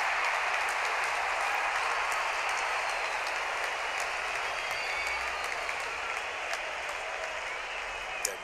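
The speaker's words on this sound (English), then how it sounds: "Walking in and the crowd cheering in anticipation." A big cricket stadium crowd at an India versus Australia match cheers and applauds as the umpires walk out, a dense, loud, continuous roar of clapping and shouting with no break.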